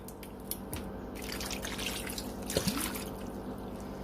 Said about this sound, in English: add 2 cups of apple juice at the bottom